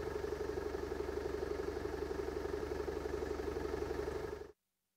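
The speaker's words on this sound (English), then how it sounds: "If nothing happens after 4 seconds standby, the engine slows down to about 700 RPM." A Komatsu hybrid excavator engine idles slowly at low RPM, a steady, even mechanical hum with a fine regular pulse that cuts off abruptly near the end.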